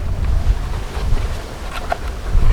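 Wind blows steadily outdoors, a loud, close low-frequency rumble buffeting the microphone throughout, with no speech.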